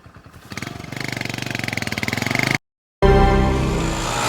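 Motorcycle engine starting up and revving in rapid pulsing bursts, loud and close, cutting out abruptly before running again with a steady drone.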